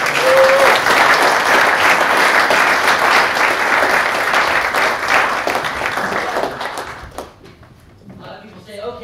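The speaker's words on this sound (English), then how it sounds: "How about a round of applause?" Audience applause at a singing workshop, loud and dense at first, then gradually thinning and fading out near the end, leaving a quieter stretch with a few faint sounds.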